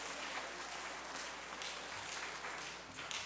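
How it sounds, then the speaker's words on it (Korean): Congregation clapping during a church devotional service, a steady dense wash of applause filling the space throughout at moderate level. "박수 한번 보내세요."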